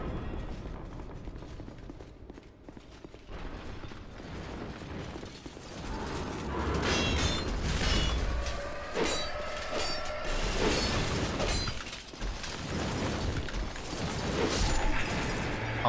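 A grinding, clanking lift mechanism rattles steadily through a Dark Souls II dungeon in the Crown of the Ivory King area, with ratcheting clicks and a whining tone rising midway as the platform rides.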